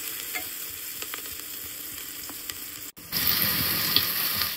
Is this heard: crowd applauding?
no